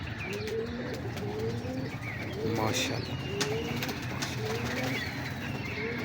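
Show pigeons coo repeatedly in low, rolling calls that recur throughout, set against a constant noisy outdoor background with a brief spoken exclamation.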